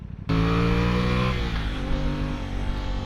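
An Aprilia Tuono 660 motorcycle engine bursts into a loud, close rev, holding a high growl for about a second before easing back to a throbbing, lower idle with faint crackles.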